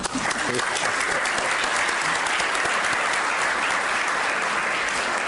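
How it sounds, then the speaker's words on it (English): Dense, steady applause fills a board meeting room for staff work, loud and continuous with no pauses, a few voices faintly beneath. "So applause to Megan."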